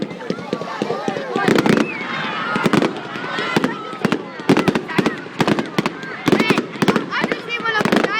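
Fireworks crackle and bang in rapid, irregular volleys of sharp loud pops, with voices talking and shouting over the bursts.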